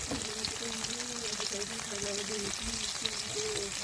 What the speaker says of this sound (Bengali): কড়াইতে তেল গরম করে তাতে শুকনো লঙ্কা আর জিরে ফোড়ন দিয়ে তেঁতুল মাখানো জলটা দিয়ে দিলাম